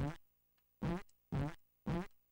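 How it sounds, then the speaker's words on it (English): Cartoonish fart sound effects from the game Alundra play as three loud, separate blasts at steady intervals, each a buzzy tone lasting about a quarter second, with a brief faint blip between the first two. "There's farts."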